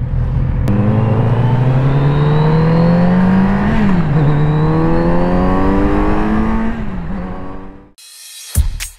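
A white and red 2022 Kawasaki Z650 motorcycle engine revs loudly and close, with a steady climbing drone, a brief dip near the middle, then a drop-off and a final short blip.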